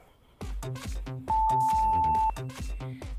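A workout interval timer sounds a single sustained electronic beep lasting about a second, loud and steady, cutting through music with a strong rhythmic beat in a home fitness session.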